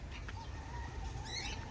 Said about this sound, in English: Them parrots that make a lot of noise.